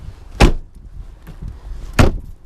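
A pickup truck door on a totaled Chevrolet Silverado from an auction, with two sharp mechanical clunks of the door being worked about one and a half seconds apart, close by with no talking.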